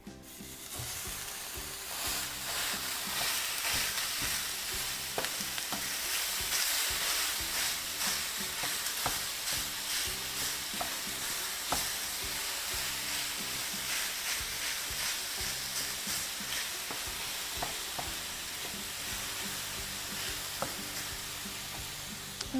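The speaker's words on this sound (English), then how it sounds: "I'm going to take the ground beef and we're going to cook it in a skillet" Ground beef sizzles and fries steadily in a skillet over medium heat, a dense continuous crackle lasting throughout with occasional scrapes from stirring, and no talking.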